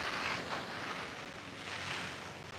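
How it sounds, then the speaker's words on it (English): A garden hose sprays water on a home yard, producing a steady broad hiss that rises and falls slightly in strength, close and continuous with no voices. "if I spray it down, it's kind of like a swamp cooler effect"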